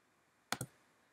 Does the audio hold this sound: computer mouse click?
yes